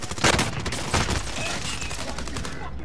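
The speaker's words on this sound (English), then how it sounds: "Bro, who is shooting me?" Dense, loud gunfire in a video game, bursts of rapid shots crowding together across the whole stretch with no talk.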